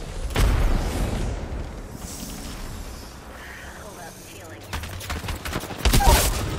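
Gunfire in the shooter game Vantage, with sharp shots early and a burst of rapid fire near the end, separated by quieter stretches where a voice talks.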